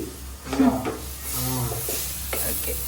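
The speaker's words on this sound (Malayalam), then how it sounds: "ഇത് നമ്മളത് നന്നായിട്ട് ഇളക്കി കൊടുക്കണം" Masala with tomato and onion being stirred as it roasts in a pan, a continuous loud sizzle with scraping strokes of a spoon, close up and with a brief voice partway through.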